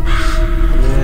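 A harsh eagle cry from the video game Survivors Viy, a single sustained call held loud and steady for about a second over a constant droning game background.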